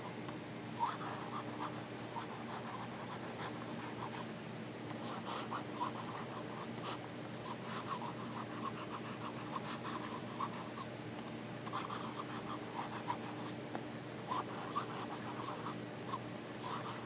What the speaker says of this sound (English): Smooth nib, really wet, really lovely nib. Writes extremely beautiful.